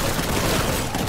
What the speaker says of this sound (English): Somebody's over here shooting the wall.